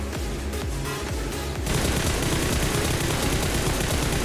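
Rapid automatic gunfire in the PUBG battle game, a bot and a player both shooting, with dense overlapping bursts that grow louder and more continuous after the first second and a half.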